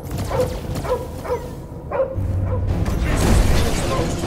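Cosmo the dog from the video game Guardians of the Galaxy gives a run of four or five short, sharp barks, followed by a low mechanical drone and game noise.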